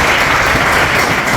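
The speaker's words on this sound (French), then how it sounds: "On peut applaudir ça." Dense, steady applause from an audience at a strategy meeting fills the whole short moment, close and loud with no pauses.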